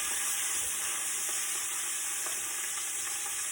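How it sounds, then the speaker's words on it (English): Steady, dense sizzling of chicken searing in a hot pan, a continuous crackling hiss with no voices, holding at an even level throughout. "we're going to go top side first on the chicken, so you get a really nice sear"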